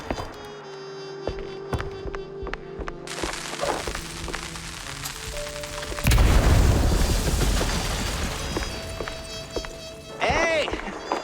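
Firecrackers bursting inside a wooden attic in the game Mouse P.I. For Hire: a loud booming blast with crackling pops and rumbling debris, followed by another sharp burst, over a musical game soundtrack.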